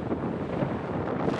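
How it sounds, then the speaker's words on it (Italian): Strong gusts of wind buffet the microphone on Dune 45, a towering sand dune at Sossusvlei, a steady loud broadband roar that holds for the whole moment with no voices. "Le raffiche ci fanno perdere l'equilibrio."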